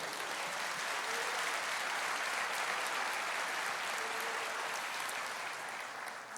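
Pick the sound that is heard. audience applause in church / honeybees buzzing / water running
audience applause in church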